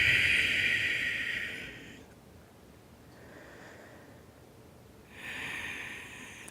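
Slow yoga breaths, a long hissing inhale or exhale, a softer breath in the middle and another strong breath at the end, close to the microphone.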